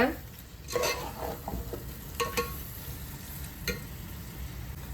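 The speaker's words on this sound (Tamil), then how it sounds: "சேர்த்துட்டு இதை நல்லா வதக்கி விட்டுக்கோங்க" Sautéing 1 kg of chicken in a pan for hotel-style Thalapakatti biryani: steady sizzling and frying with irregular scraping strokes of a spatula, close and moderately loud, no voices.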